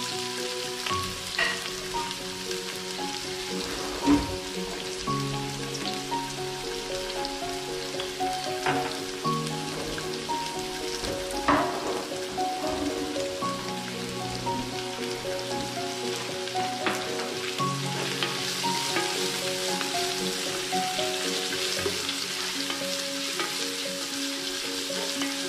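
Sliced onions sautéing in a pan for a dried-meat dish, a steady crackling sizzle throughout with occasional stirring scrapes, close and fairly loud with no voices.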